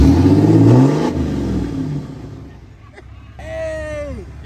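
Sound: truck engine revving

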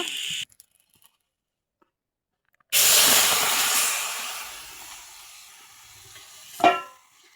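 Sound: beans added to hot pan sizzling

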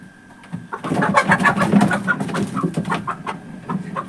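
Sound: chicken being handled

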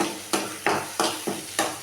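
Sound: stirring egg and vegetables for chicken fried rice in a pan

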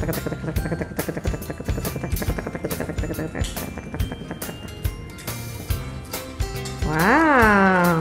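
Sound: Rescue Bots toy helicopter sound effect

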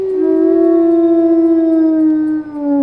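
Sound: wolf howling, from the video game WolfQuest

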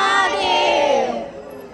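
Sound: large crowd of pilgrims at Kashi Vishwanath temple

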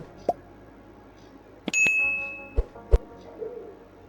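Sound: bell notification ding sound effect

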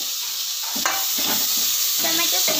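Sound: chopped tomato sautéing in a pan with browned onion

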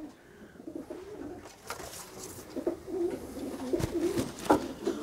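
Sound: pigeons cooing

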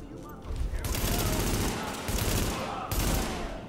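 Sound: gunfire in The Division video game

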